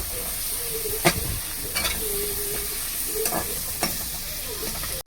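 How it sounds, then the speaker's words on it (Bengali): Spice paste (masala) fries in hot oil for a tilapia curry, a continuous close sizzle and hiss with a few sharp scraping stirs of a spatula against the pan. "ভালো করে মশলাটাকে ভেজে নেব।"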